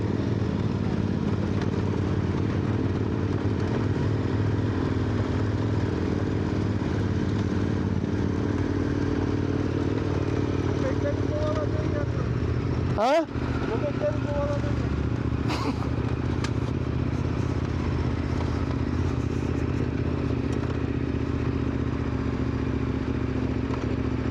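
Motorcycle engine running steadily on a mountain route in the Bolkar range of the Taurus Mountains, a continuous loud drone throughout with a brief clatter near the middle.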